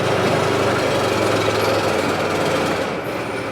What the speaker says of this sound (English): That sounds like it's got a little exhaust leak.